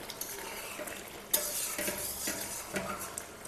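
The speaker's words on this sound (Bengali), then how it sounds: "এখন আমরা কষিয়ে নেব তরকারিটাকে, ভালো করে সুন্দর করে কষিয়ে নিতে হবে।" Bata fish curry with potato and eggplant being stir-fried in mustard oil, with steady sizzling and repeated scraping of a spatula against the pan, plus a sharp clank near the start of the stirring.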